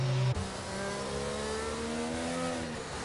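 Race car engines rev and whine under a safety car period in a Codemasters F1 video game at Miami, with a sharp engine note cutting off early, then steady harmonic engine tones rising and holding, loud and close.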